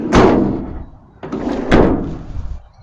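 A Renault Kangoo ZE electric van door shuts twice with solid, close thuds about a second and a half apart, each followed by a short rattling decay.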